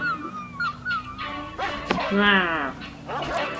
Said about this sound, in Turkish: Sokak köpekleri.